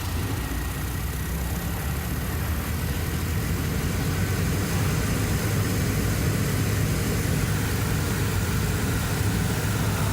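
A Nissan blower motor whirs continuously, a steady broadband fan rush with a faint hum running the full length, moderately loud and close, with no speech.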